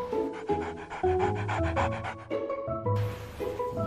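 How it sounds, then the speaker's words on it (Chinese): A golden retriever pants close by in quick, rhythmic breaths with short pauses, loud and clear with no talk. "哎呦，这金毛真大"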